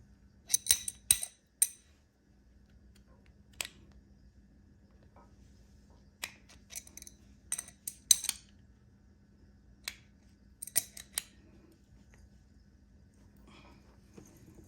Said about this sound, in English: I'm going to use a 17 mil and a box wrench to finish tightening it up.